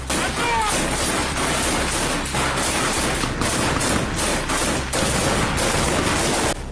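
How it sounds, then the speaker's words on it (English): Continuous, loud rapid gunfire in controlled bursts during close-range combat in Ukraine, cracks overlapping densely throughout, close and intense. "You can hear the sharp commands, the controlled bursts of gunfire"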